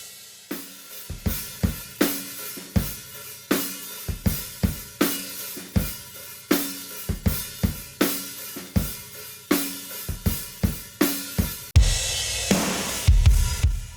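A drum kit captured by a pair of AKG 414 room mics and a Rode K2 centre mic plays a steady beat of roomy kick and snare hits, with a louder cymbal wash near the end.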